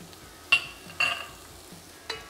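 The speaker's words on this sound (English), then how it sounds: "we'll add 1 large onion chopped to the pot here" One large chopped onion goes into a hot pot at medium heat, making three brief, close bursts of sizzle and stirring scrape, each fading quickly into quiet.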